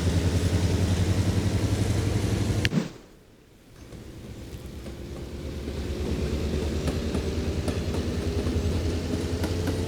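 Train carriages rolling along a track in the game Mashinky, a steady low rumble with a rhythmic clatter that drops away briefly, then swells back up and keeps running under a faint whistle-like tone.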